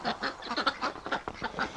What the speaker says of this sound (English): The ducks, they're so funny here.